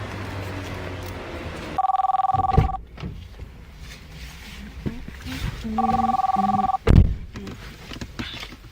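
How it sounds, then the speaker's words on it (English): A telephone rings in two distinct bursts a few seconds apart, loud and near, with people talking around the rings and a thump between them. "Who just called my phone?"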